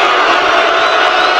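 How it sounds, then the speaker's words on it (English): A deafening crowd roars and cheers at a wrestling match, a dense unbroken wall of voices filling the whole stretch at close range. "The crowd here are deafening."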